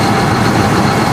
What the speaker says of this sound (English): We're trying to squeeze in the full length of the tractor. And the slurry trailer.